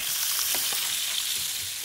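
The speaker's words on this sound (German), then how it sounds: "jetzt schneide ich ein paar Schalotten noch dazu, dass wir so ein bisschen anbraten können" Shallots frying in a hot pan give a bright, steady sizzle close by, with a few soft stirring clicks and no voices over it.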